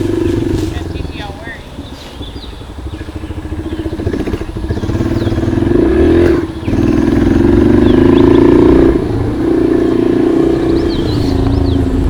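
Motorcycle rides around a field, its engine droning and rising and falling in the distance, with people talking throughout.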